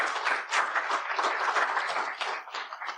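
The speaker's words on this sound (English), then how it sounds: "Let's give Matt a round of applause, please." An audience applauds a speaker at a real estate seminar on rehabber-contractor relationships, with dense, steady clapping that holds strong for about three seconds.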